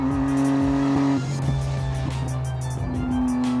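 A 1990s Nissan Skyline R34 GTR engine holds a loud, steady drone that drops in pitch partway through, then rises again toward the end, heard up close with no talking.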